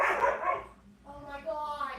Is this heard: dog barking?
yes